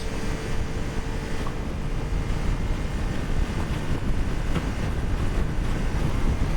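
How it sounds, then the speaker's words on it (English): Wind buffets a motorcycle rider's helmet during an afternoon commute on an unfaired bike, a loud, steady roar of rushing air with gusty fluctuations and no talk. "the wind really buffets my helmet"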